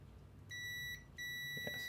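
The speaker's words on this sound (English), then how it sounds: "we'll just do some continuity where it beeps before I make contact." Two steady electronic beeps from a multimeter continuity test, high-pitched and clean, each lasting about half a second with a short gap between, over a low background hum.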